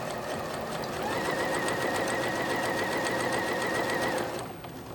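A sewing machine stitches along fabric with a fast, steady mechanical chatter for about four seconds, then stops abruptly.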